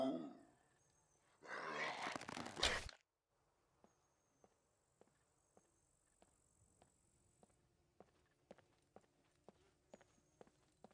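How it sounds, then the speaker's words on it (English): A character in the survival video game SCUM sneezes once: a loud, noisy burst lasting about a second. Faint ticks and insect-like chirps follow it in a quiet outdoor scene. "Sneeze is gonna get me killed."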